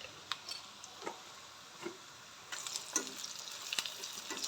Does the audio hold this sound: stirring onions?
yes